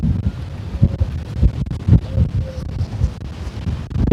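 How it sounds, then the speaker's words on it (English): Strong gusts buffet a microphone on a beach walk at Matagorda, causing heavy low rumbling and thumping pops that rise and fall irregularly over a steady roar of wind. "pretty windy, and I'm not sure how good these power mics are going to be able to cope with this kind of breeze"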